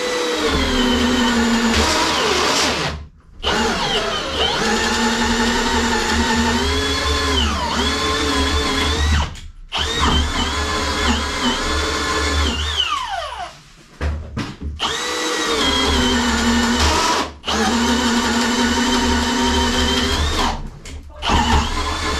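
A power drill grinds loudly and continuously through a stone wall in several long bursts, its pitch sagging and straining under load, with brief pauses between runs.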